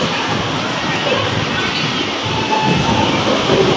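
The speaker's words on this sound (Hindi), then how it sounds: "ओ आ गई ट्रेन, आ गई भी ट्रेन आ गई।" A children's ride train rolls into a busy shopping mall in Bahrain, making a loud, continuous rumbling wash of wheels and motor beneath echoing crowd noise and the voices of people nearby.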